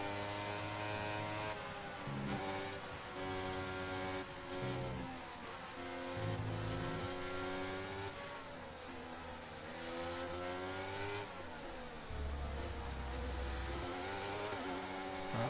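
Simulated Formula 1 race car engine from the F1 2023 game at the Texas circuit, a loud continuous high-pitched whine with rising and falling harmonics as it accelerates and shifts gears, sustained throughout with no talk.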